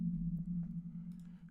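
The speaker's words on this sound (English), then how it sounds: "It's a noisy sonar." A noisy sonar synth patch from the Nexus XP Stratosphere bank: a quiet, steady low hum with faint scattered pings and hiss above it, short and unaccompanied.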